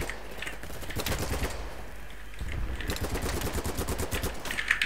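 Gunfire in the video game Battlebit, with sustained rapid automatic bursts heard at moderate distance and a brief lull around the two-second mark.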